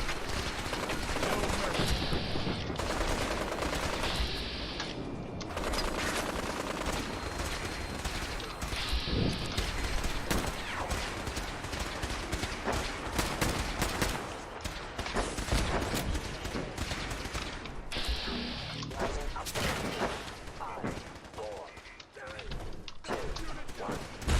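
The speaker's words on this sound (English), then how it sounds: "Who is firing at us?" Gunfire in Fallout 4, rapid loud bursts of shots and heavy impacts in dense volleys across the whole stretch, with a player's voice talking over the combat.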